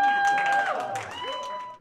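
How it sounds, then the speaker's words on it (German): Applause and crowd noise at a Trier carnival reception, with scattered clapping under sustained tonal music or whistling that fades toward the end. "Applaus, Applaus."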